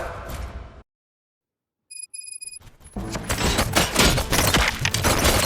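Gunfire erupts in the RoboCop: Rogue City video game during a prison riot, a dense, loud burst of rapid shots after a short silence and a few metallic pings, continuing close and intense.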